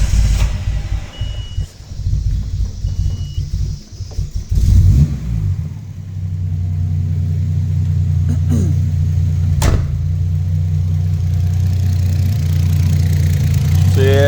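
A Nissan R32 GTR engine with a suspected leaking idle air control valve struggles to hold idle, revving and dropping unevenly at first and then settling into a loud, rough, steady run close by, with a few brief clicks and knocks.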